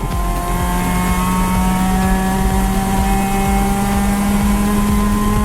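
Race cars in an endurance race at Clark Speedway make a continuous loud engine drone with steady high harmonic whine, several engines blending close by as cars chase a Mustang through a corner.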